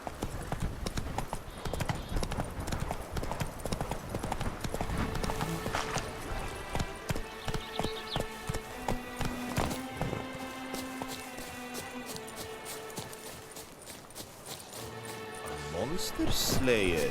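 A horse gallops in The Witcher 3, its hooves clip-clopping in a steady fast rhythm under dense game music and sound effects, loud and continuous with brief whinny-like accents.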